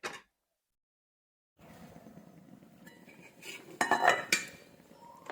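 A utensil stirs rice boiling in a pot on a gas stove, giving a few close metallic scrapes and clinks against the pot after a quiet start.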